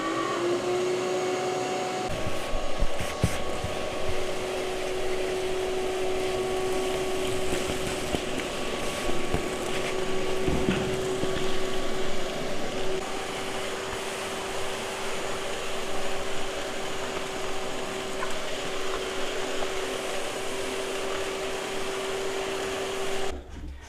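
A shop vac runs steadily through a homemade DIY dust collector, a loud continuous motor drone with a high whine, holding even throughout with some rattling debris being sucked up and no voices.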